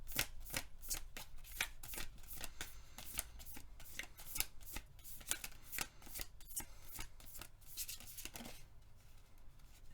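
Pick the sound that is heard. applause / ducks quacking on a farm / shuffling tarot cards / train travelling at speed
shuffling tarot cards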